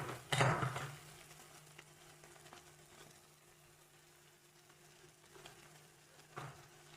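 Chopped cabbage and capsicum dropped into a hot pan for a vegetable roll filling give a loud sizzling burst, then settle into a quieter, steady frying hiss, with a second brief flare near the end.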